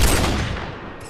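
Gunfire in the video game Fortnite: a single loud, dense burst of shots that decays over about a second, with no talk over it.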